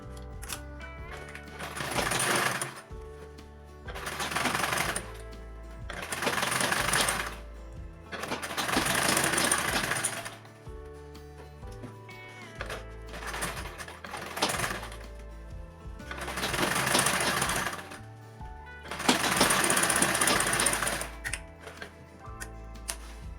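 Sewing machine top stitching a folded seam on a fabric shoulder bag, running in repeated bursts of rapid mechanical ticking separated by short pauses, close and clear with no talk.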